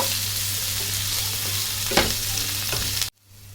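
Chopped onions fry in a pan until golden, giving off a steady close sizzle with a brief stirring scrape, and then the sound cuts off abruptly.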